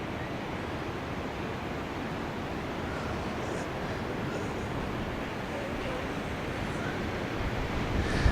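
Ocean surf rolls in steadily near a seaside condo, a continuous broad wash of waves with some wind noise across the microphone, fairly even in loudness throughout.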